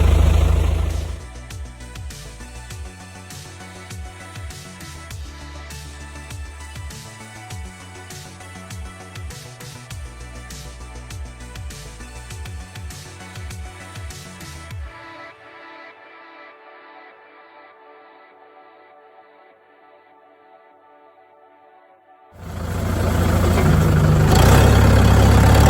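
Backhoe engine running steadily while bunching logs for land clearing, a loud continuous rumble that fades away partway through before a loud burst of machine noise returns near the end.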